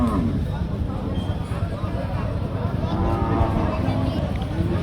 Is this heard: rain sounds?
no